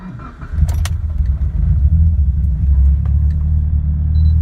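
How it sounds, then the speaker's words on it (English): Mitsubishi Lancer Evo IX SE, self-tuned on GSC S2 cams, cold-starts with a brief crank, then settles into a loud, close, steady idle rumble. "First try cold start. It'll go just about to 1500 immediately."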